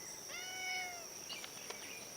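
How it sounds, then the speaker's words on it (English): A neighbor's cat meows once in a garden, a single drawn-out call near the mic, with faint insects chirring steadily behind it and a few soft clicks afterward. "And as usual, neighbor kitty has come to visit."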